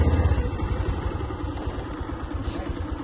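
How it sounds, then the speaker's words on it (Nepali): A motorcycle engine runs close by in the Sandhikharka bazaar area of Arghakhanchi, a steady, throbbing mid-pitched drone with a pulsing rumble that is strongest at the start and holds evenly throughout. "अब म बाइक घुमाउँदैछु"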